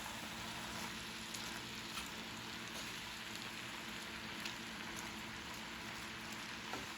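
Cabbage fries in a pan with a steady, close crackling sizzle that holds evenly throughout, after vinegar has been added, with no talking over it.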